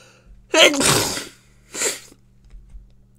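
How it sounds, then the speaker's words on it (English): A single sharp, loud sneeze bursts out close by, followed by a smaller breathy snort, then quiet. "I'm about to sneeze."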